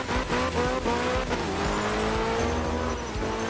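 Racing car in a video game, resembling a Mitsubishi Lancer, driving with a loud, steady engine drone that climbs and shifts pitch, with brief tire squeal and skidding, continuous and close throughout.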